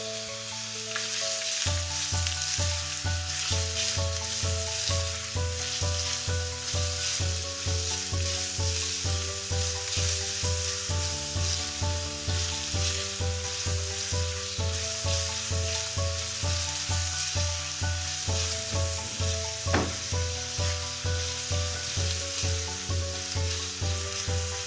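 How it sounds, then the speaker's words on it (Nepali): A finely chopped medium onion fries in two tablespoons of hot oil for a veg momo filling, its steady bright sizzle running under pulsing background music throughout. "अब तेल तातेपछि मैले यसमा राखेँ एउटा मिडियम साइजको प्याज मसिनो गरेर"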